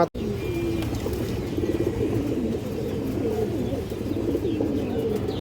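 Pigeons cooing steadily at close range, a soft continuous murmur of overlapping coos with occasional brief chirps, no speech.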